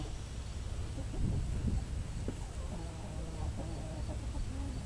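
Chickens cluck softly and intermittently while scratching at scratch grains, over a steady, hissing outdoor background with a breeze, faint and fairly distant.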